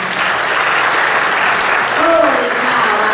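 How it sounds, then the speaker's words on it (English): Audience at a live debate-competition final applauds steadily after a speech, a dense continuous clapping that holds loud throughout. "Let's have one more round of applause for round 2 contestants, Tanya and Anthony."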